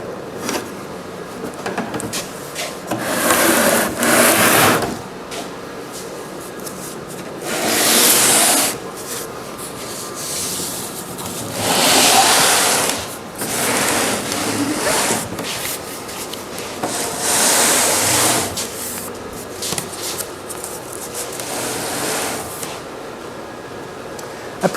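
Sanding a cedar blanket chest produces repeated rasping strokes, each a few seconds long, rising and falling in loudness over a low steady background, close by and with no talking.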